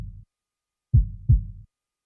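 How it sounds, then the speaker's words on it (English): Heartbeat sound effect within a music beat: deep, muffled low thumps with the highs rolled off, a short tail at the start, then a clear double-beat lub-dub pair, loud and close, with no voices. "I added this heartbeat kind of effect to give that kind of emotion to it."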